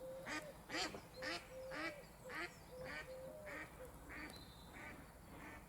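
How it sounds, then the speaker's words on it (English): Ducks on a pond passed during a countryside walk give a run of roughly eight nasal quacks in a steady rhythm, fairly close and clear over quiet outdoor background. "A couple of ducks."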